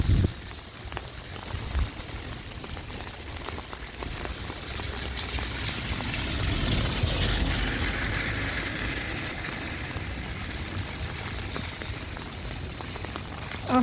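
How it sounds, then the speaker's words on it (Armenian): Heavy downpour on a street in Strasbourg near a swollen river, a steady dense patter and wash of rain with a low rumble swelling midway, fairly close and without voices. "Տեղատարապ անձրև է սիրելիներս"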